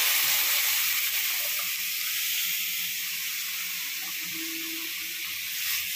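Cooked dal poured into hot tempering, a strong continuous hiss and sizzle that holds steady and swells slightly at the end, close and loud.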